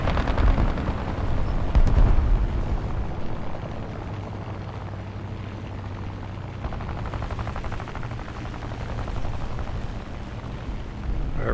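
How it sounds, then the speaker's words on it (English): Machine-gun fire from an I-16 fighter plane in the War Thunder air combat game, set against a dense roar of engine. Shots crackle in bursts that are heaviest early on, then settle into a steady loud drone. "Try and get a couple shots in the P-26, the pea shooter."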